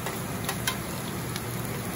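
Ground ginger and garlic fry in a pan for a spicy Kerala fish curry, a soft constant crackling sizzle with a few brief sharper pops, moderate in level and free of talk.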